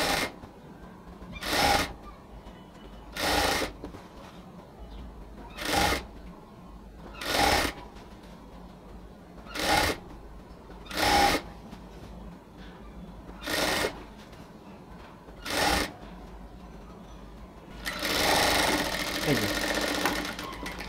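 Sewing machine stitching small, spaced pleats into ladies' pants fabric, running in about ten short, evenly spaced bursts separated by quiet pauses, ending in a longer continuous run; close and clear with no talk over it.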